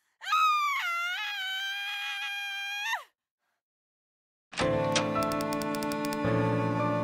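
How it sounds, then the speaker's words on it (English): A woman in a video game lets out a long, loud wailing scream that holds for about three seconds. After a silent gap, busy game sounds follow, tinkling and ticking over a low tone. "I just heard some screaming"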